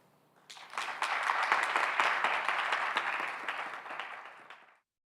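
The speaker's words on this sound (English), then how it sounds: "Please have a round of applause." A modest crowd claps at a Phi Theta Kappa induction ceremony, with distinct individual claps rising quickly into a steady round that lasts about four seconds, then cuts off abruptly.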